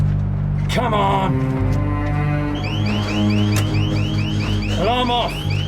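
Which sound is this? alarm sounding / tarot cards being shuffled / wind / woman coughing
alarm sounding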